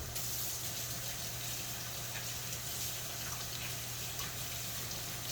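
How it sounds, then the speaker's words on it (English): Tap water runs steadily into a kitchen sink while hands are washed beneath it during squash cooking, a constant close gushing hiss with faint splashes and no talk. "I'm going to wash my hands really quick."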